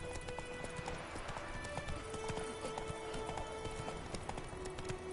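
Hooves of a horse gallop steadily in The Witcher 3, a fast continuous clip-clop rhythm with game ambience and a faint tonal score underneath.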